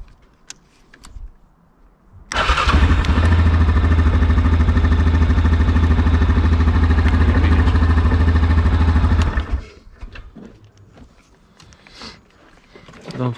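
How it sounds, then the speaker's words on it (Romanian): An ATV engine cranks and catches, then runs loudly and steadily for about seven seconds before cutting off, with scattered faint noises before and after. "Trebuie să pornești motorul."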